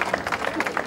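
An audience claps and applauds at an official ceremony opening rail traffic through the Beskyd tunnel, a brief burst of dense, rapid clapping close by.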